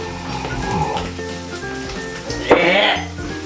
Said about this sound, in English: Oh, it's boiling! It's sizzling!